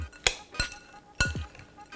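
A spoon stirs roasted tomatoes with oil and tomato juice in a pan, giving a few sharp, separate metallic clinks against the pan over about two seconds.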